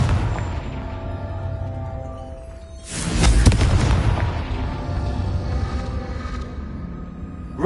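The Confringo fire spell in Hogwarts Legacy lands as a loud, booming explosion with a rumbling tail, set against a layered game backdrop of hum and music.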